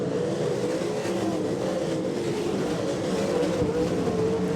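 410 sprint cars race through the turns at a King of the West series dirt event, a dense roar of high-revving engines that rises and falls slightly as the pack sweeps past. The roar is continuous and unbroken by voices.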